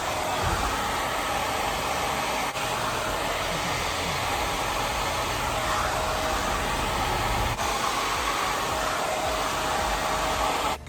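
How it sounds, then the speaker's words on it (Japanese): A hair dryer fitted with a diffuser attachment dries curly permed hair, giving a loud, steady blowing roar that runs unbroken throughout with slight shifts in tone, no voices. "ちょっと日本のメーカーのドライヤーだとこれはついてこないと思うんですけど、これを口にはめて、これでこうやって乾かします。"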